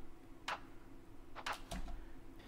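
A few sharp, bright clap hits spaced apart over a steady low hum, one with a short low thump beneath it.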